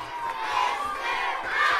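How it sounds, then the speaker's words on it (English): Hundreds of students and staff cheer and shout for a retiring elementary school principal in Oak Park, a loud, sustained crowd roar of mostly children's voices. "greeted by 500 students and 90 staff cheering and holding up posters and giving you hugs"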